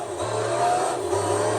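Pagani Zonda race car engine in the video game Gran Turismo 3, a loud sustained mid-pitched howl that revs up, dips briefly as the car shifts, then climbs again, heard close and alone.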